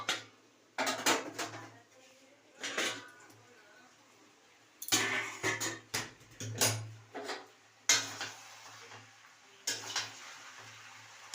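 A lid lifted off a pan of prawn and spring-onion curry and the pot handled, a series of sharp metallic clanks and knocks separated by quiet gaps, with some speech.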